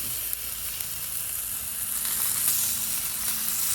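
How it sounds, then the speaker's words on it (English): Turkey bacon sizzles in oil on a Blackstone flat-top griddle, a steady close hiss that holds evenly throughout with no voices. "So I'm gonna throw down some oil and throw on my bacon."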